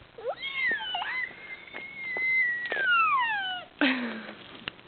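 A kitten meows repeatedly nearby, long drawn-out wavering cries with a couple of clicks and a breathy burst between them.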